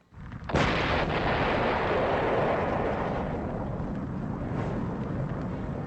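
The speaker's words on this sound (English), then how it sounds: "The 6-ton tank car in this blast rockets nearly 3/4 of a mile into a field." A liquid petroleum gas railway tank car explodes, a sudden loud blast followed by a sustained roaring rumble that slowly fades, with no voices.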